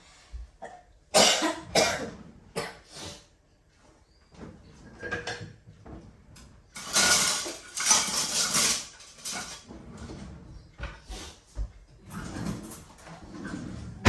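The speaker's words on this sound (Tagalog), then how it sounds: "Ubo ako mga maring. Yung pangit na ubo" Repeated harsh coughing fits, loud and close, with several bursts in quick succession and brief pauses between them.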